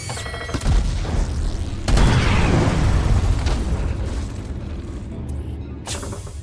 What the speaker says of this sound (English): Fire! Get them torpedoes out.